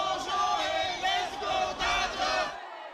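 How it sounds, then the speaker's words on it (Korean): Fans shouting and cheering at an airport arrivals hall as baseball star Shohei Ohtani appears, a dense crowd roar rising and falling in waves before cutting off abruptly near the end. "오타니 쇼헤이가 가장 먼저 입국장에 등장하자 팬들의 함성이 쏟아집니다"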